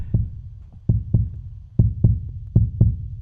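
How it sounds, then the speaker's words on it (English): Muffled, thumping heartbeat sounds arrive in paired beats, lub-dub, about four pairs at an even rhythm, close and deep with quiet gaps between. "You can hear my breathing between the heartbeats."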